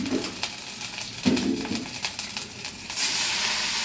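Prawns with salt and raw turmeric fry in a pan for potol chingri, giving a continuous crackling sizzle broken by stirring clicks, then a louder, smoother hiss near the end.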